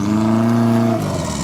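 Engine of a 4x4 off-road vehicle climbs an obstacle, holding a steady droning note at moderate revs, then drops suddenly to a lower rumble near the end.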